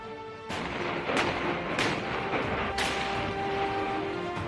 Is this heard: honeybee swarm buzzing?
no